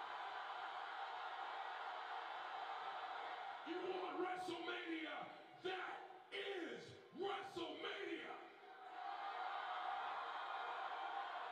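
A WWE Raw arena crowd swelling into cheers and chanting over a steady roar, with voices talking on top during the rise.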